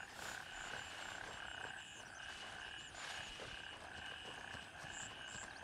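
Frogs croak and trill in a jungle area of the Gray Zone Warfare video game: repeated faint chirping calls over a soft continuous ambient hiss, with no talking.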